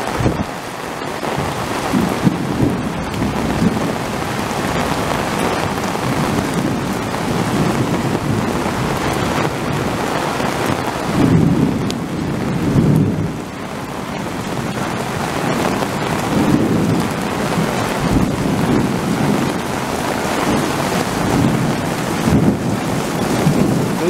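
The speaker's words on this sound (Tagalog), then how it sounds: "Kulog ng kulog. Sobrang lakas ng kulog. Biglang umulang ng malakas." Heavy rain pours steadily while deep rolls of thunder swell and rumble several times, close and loud, with wind buffeting the microphone.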